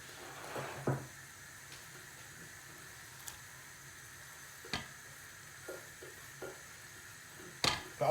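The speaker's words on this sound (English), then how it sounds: "I want the onions to sweat down" Onions sweating gently in oil in a pan on medium heat for a salmon risotto, a faint soft sizzle with occasional light stirring clicks and taps, no talking.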